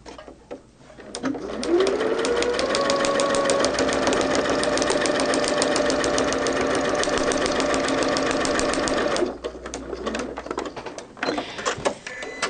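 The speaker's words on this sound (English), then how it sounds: "And I am sewing into the seam allowance, so I don't have to worry about back stitching." A sewing machine runs a steady, continuous stretch of short stitches along a quilt block's seam allowance, loud and close, starting up after a second and stopping near nine seconds, followed by quieter handling noise.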